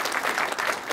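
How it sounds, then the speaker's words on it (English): Brief, full applause from the audience at a TiE Social panel on social gaming, honoring the two co-chairs: a dense wash of many hands clapping at an even level, with no talk over it. "I really wanted to give a big round of applause to our 2 co-chairs"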